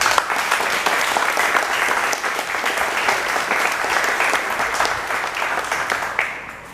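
A crowd claps steadily in a sustained round of applause at a fire department ceremony for a returning 1949 American LaFrance fire truck, loud and close, tapering off near the end.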